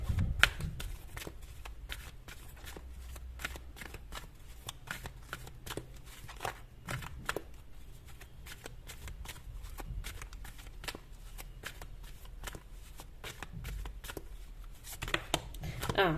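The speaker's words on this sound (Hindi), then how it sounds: "तब तक मैं शफल करती हूँ कार्ड्स।" Tarot cards are shuffled by hand in a quiet room, a continuous run of fast, crisp riffling flutters and light slaps that carries on throughout at a soft, close level.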